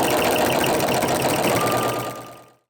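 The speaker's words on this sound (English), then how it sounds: "just go ahead and sew it like I am with your walking foot" A sewing machine with a walking foot stitches fabric pieces for an oven mitt, a fast steady whirring hum running close by before slowing and stopping at the end, with no one talking.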